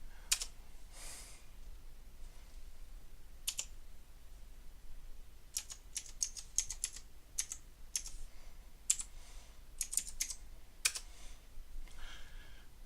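Keystrokes on a computer keyboard while editing a document in a DOS text editor, soft scattered clicks in short irregular bursts with pauses, close and fairly quiet, no voices.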